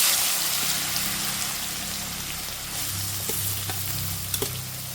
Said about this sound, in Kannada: ಒಗ್ಗರಣೆ ಸಿಡಿತಿದ್ದ ಹಾಗೆ ಹೆಚ್ಚಿಟ್ಕೊಂಡಿರುವಂತಹ ಹಾಗಲಕಾಯಿಯನ್ನು ಹಾಕ್ಕೊಳ್ತೇನೆ